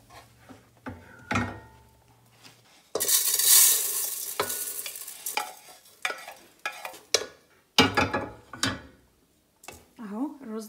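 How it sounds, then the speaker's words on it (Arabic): Browned fried rice being moved from a pan into a rice pot, with intermittent scraping and clattering of a spoon against metal and a loud sizzling burst partway through, a voice talking between the stirs. "هبدا ان انا اقلبه في حله الرز عشان اجهز دلوقتي الشوربه"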